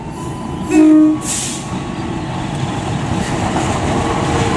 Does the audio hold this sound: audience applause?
no